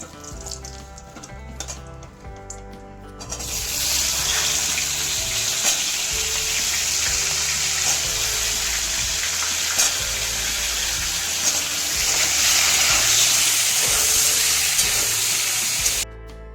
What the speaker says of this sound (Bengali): ফুলকপিগুলো একটু ভেজে নিচ্ছি